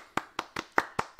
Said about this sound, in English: He's clapping with one hand.